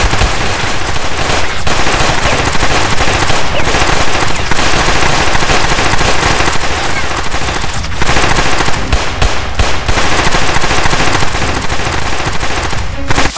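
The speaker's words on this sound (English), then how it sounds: "Her, shoot her!" Loud, continuous automatic gunfire fills the whole stretch in an action scene, rapid bursts running almost without pause and staying close and harsh throughout.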